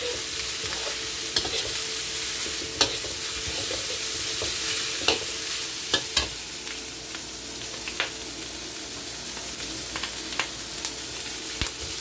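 Tempe frying in a pan while being stirred, a steady close sizzle broken by regular scraping and clinking strokes of a utensil, with no talk.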